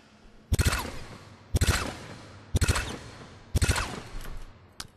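Hornet gun in Mass Effect 3 firing in four sharp, evenly spaced bursts of rapid shots, each followed by a short decaying tail, loud and close with no talk.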